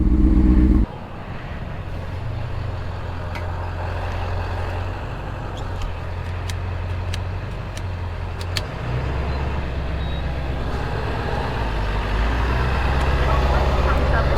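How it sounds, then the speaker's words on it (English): A large truck rumbles past near a roadside in heavy traffic, a low, drawn-out engine drone that rises and falls over about fourteen seconds amid general street noise. "Big ass hunka-dunka truck going by."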